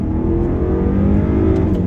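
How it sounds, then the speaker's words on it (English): A 2014 BMW 550i's twin-turbo V8 revs hard under acceleration, a loud, steady, close-up engine roar with audible induction noise throughout, no voices. "I really do like the sound, the induction noise that you get"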